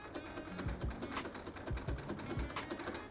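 A manual typewriter taps out a steady run of crisp key strikes at close range, with a few heavier thumps mixed in and no talking.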